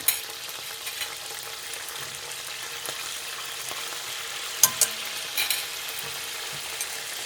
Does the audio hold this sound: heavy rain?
no